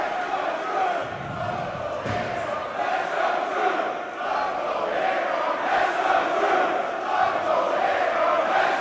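Ringside wrestling crowd cheering and shouting in a steady, loud roar with split support, swelling in waves throughout.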